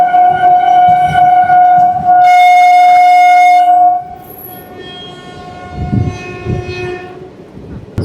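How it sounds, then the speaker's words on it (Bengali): A locomotive engine passing a moving passenger train near Dum Dum Junction in Kolkata, sounding a loud, sustained horn blast, then fading into a quieter rail rumble with rattling clatter. "পাশ থেকে একটা লোকো ইঞ্জিন সেটা কিন্তু ক্রস করছে।"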